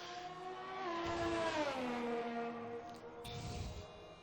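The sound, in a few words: Renault race car engine revving in an Xbox racing video game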